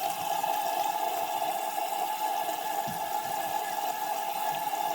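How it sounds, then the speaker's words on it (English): Warm tap water runs steadily into a sink for face washing, a continuous close hiss and splash with no pauses or talk. "So I start off, warm water."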